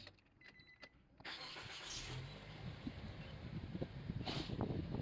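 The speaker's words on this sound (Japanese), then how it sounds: "エンジンかけます。" Parked car's engine starting inside a quiet garage: a short cranking burst, then the engine catches and settles into a steady, close idle with a few small knocks and clicks.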